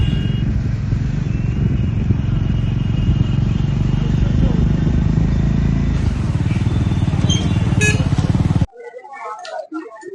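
A motorcycle rumbles steadily along the road under wind noise, its engine note continuous before cutting off abruptly near the end, leaving faint background sounds.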